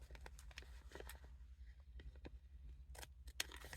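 Scissors cutting a round mixed-media Christmas ornament piece in a quiet room, making soft, faint snips and paper rustles in irregular bursts.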